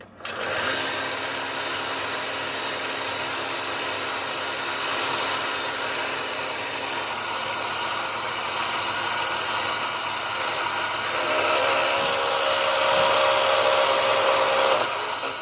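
A steady, continuous mechanical whir of a power drill drilling metal on a burner frame, running nonstop, with a slight rise in pitch near the end.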